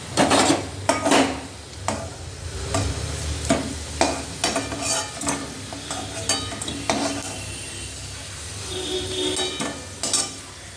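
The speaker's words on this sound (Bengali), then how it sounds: "এই যে আলুটা দিয়ে দিয়েছি, আলুটা এবার একটু লাল লাল করে ভেজে নেব।" Potatoes fry in hot oil in a pan under a continuous sizzle, while a metal spatula scrapes and knocks against the pan in repeated, close strokes.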